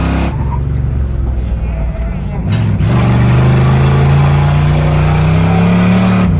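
Monster wagon car sliding with oversteer through a turn, its engine roaring loud and steady with a rising pitch as it accelerates out of the slide, while excited voices shout over it.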